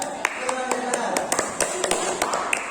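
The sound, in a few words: classroom clapping for group B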